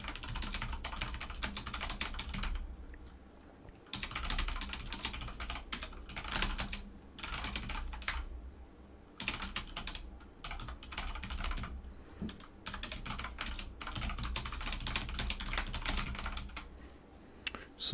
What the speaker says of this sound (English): Some ASMR typing there.